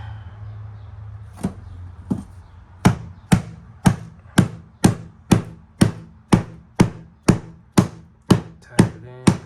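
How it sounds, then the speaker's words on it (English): A hammer taps a vinyl flooring plank into place during installation, about sixteen sharp, close knocks in a steady rhythm that grows more regular after a few slower first strikes. "use my hammer."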